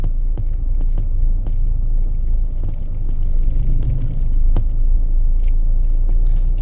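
A Mahindra Thar ROXX MX1 rumbles steadily on the road, its engine note rising a little midway, with scattered clicks and knocks inside the cabin; no one speaks.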